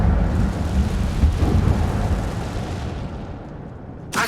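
An Incendio fire spell goes off in Hogwarts Legacy, a loud roaring whoosh of flame that swells and then slowly fades, ending with a short burst.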